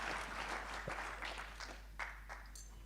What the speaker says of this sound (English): A round of applause to my panelists